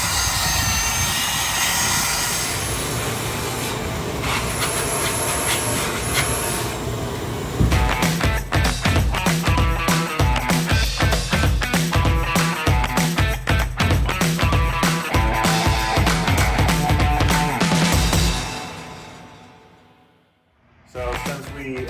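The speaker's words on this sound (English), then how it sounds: "Nice 36 grit belt on that belt sander." A belt sander fitted with a coarse 36 grit belt grinds metal while an anvil base is built from scrap, making a loud, steady, close-up roar that roughens midway and then winds down near the end.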